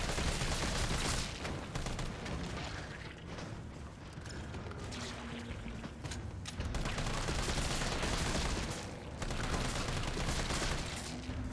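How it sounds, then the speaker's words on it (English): Gunfire from Resident Evil 3 Remake as zombies are shot repeatedly, with dense, loud bursts and rattling mechanical clatter running continuously through the clip. "just kind of shoot them a bunch"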